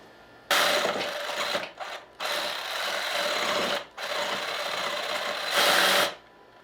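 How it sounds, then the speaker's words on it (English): A Sawzall reciprocating saw cutting through a part of a rolling workbench, loud and close, with the blade buzzing steadily in long bursts broken by brief stops and restarts. "Guess we're gonna have to take the Sawzall and finish up the job."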